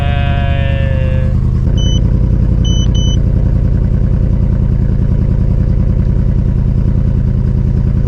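A supercharged BMW M3 engine fires up and settles into a loud, steady idle, a dense continuous drone that stays close and constant after a brief tonal beep at the start.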